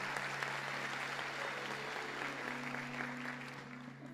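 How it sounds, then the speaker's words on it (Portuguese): Congregation applauding at a church service, a steady wash of clapping heard at a moderate distance, with a faint low hum underneath. "Vamos aplaudir eles aqui já?"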